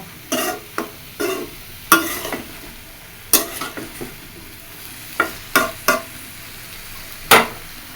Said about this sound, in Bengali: এবার মশলা দিয়ে ভালো মতো একসাথে কষায় নিব